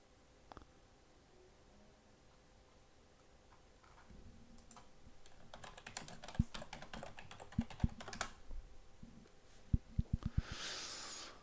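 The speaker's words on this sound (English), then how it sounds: "There's the typing or spelling for you, Douglas." Computer keyboard typing during an online chess endgame tournament, starting as faint scattered keystrokes and building into busier clicking bursts with a few sharper taps near the end, alone without talk.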